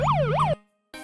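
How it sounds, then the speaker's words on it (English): A police car siren wails loud and close as it chases another car, rising and falling twice in a cartoonish sweep. It cuts off abruptly, and after a brief silence a final loud burst begins. "I see a police car chasing after it"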